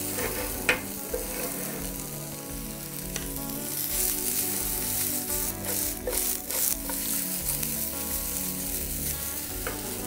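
Thin, long-cut baby corn strips, already half cooked, fry and sizzle steadily in a pan for about ten seconds, close and continuous, with occasional stirring clicks and no talk.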